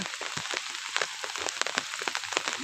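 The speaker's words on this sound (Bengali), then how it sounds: "বৃষ্টি এখনও হচ্ছে আজকে প্রায় এগারো বারো দিন হবে বৃষ্টি হচ্ছে অনবরত" Steady rain falls continuously during flooding in Noakhali, a soft even hiss with scattered drops and no voices.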